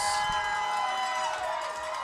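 Fans in a football stadium cheer in a steady, distant roar, a sustained wash of crowd noise with faint whistling or shouting, lasting only a couple of seconds.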